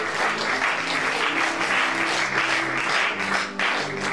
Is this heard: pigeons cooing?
no